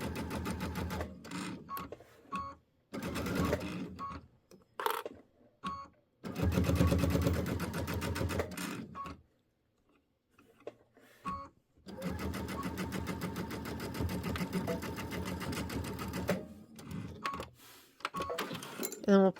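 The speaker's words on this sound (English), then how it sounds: "I am going to lock that stitch." A sewing machine stitches and locks a seam on a quilt block, its rapid mechanical whirring running in several close bursts separated by short pauses.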